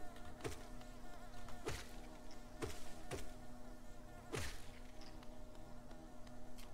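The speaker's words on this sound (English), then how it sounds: "There are many bees around here." Bees buzzing in the Hollow Knight video game, a quiet continuous insect drone with several sharp hits from the game sounding over it.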